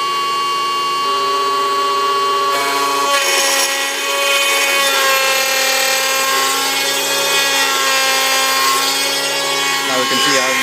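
A Bravo Prodigy CNC mill cutting a shot tray gives a continuous loud, high, tonal whine with a steady grinding texture, running close throughout with slight shifts in pitch and no talking.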